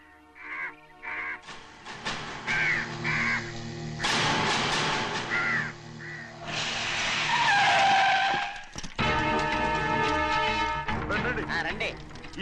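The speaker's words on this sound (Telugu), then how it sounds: "ఈ ఏరియాలో ఒక్క కాకి కూడా ఉండాలని వీలేదు." Crows caw in short repeated pairs amid a film scene set at a car showroom, mixed with tire skids, engine noise and people talking over it.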